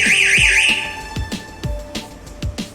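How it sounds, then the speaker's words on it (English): A bank ATM intrusion alarm panel's hooter sounds, giving a loud warbling siren tone that cuts off early, followed by a series of sharp repeated electronic pulses in an even rhythm. "Depending upon the alarms which are generated, the local hooter will blow."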